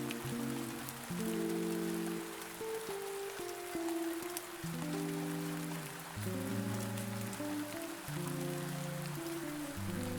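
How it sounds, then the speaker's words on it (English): Steady rain hisses softly and continuously beneath slow, gentle music notes. "the rain falls, and falls, and falls"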